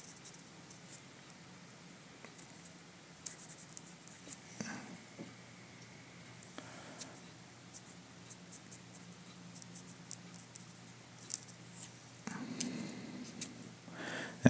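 A pencil sketch of Daredevil being drawn on paper, with faint scratchy strokes, soft taps and occasional brushing smudges, quiet and close.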